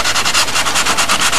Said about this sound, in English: That's why it's real important to have this sanding block with an angle on it.